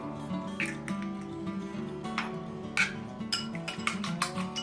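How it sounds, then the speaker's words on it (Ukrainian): Rapid metallic clinking of a utensil whisking an egg in a plate, a steady scraping rhythm with sharper taps, close by and without speech. "Яйце перемішуємо в тарілці."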